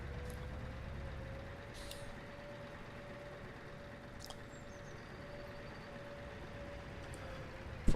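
Euro Truck Simulator 2 game audio: a steady low truck rumble with a long tonal hiss running through, a few sharp hissing bursts of air brakes at full braking, and a clunk at the end.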